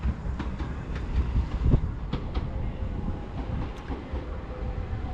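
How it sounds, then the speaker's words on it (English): A Southern passenger train, the 10:47 service from Portsmouth Harbour to London Victoria, unit 377135, rumbles steadily into a West Sussex station on the West Coastway line, close and loud, with clattering wheel clicks over a continuous roar. "We've actually got a train coming in here. It's 10:47 Southern service to London Victoria."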